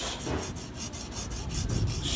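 A kitchen knife with a bent tip is rubbed against a diamond or rough grit sharpening stone, giving steady, close rasping strokes repeated in a regular rhythm with no pauses and no voices.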